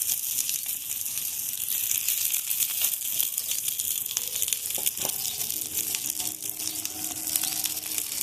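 A pan of food sizzles and crackles steadily while frying in little oil for a homemade iftar snack, a continuous close hiss with no one talking.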